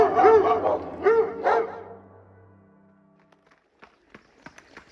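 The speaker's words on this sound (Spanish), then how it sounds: "Los perros guardianes de la casa ladraron toda la noche, como si estuvieran alerta." Guard dogs at a house bark at night, two or three loud, close barks in the first two seconds, then fading to faint scattered clicks and noises.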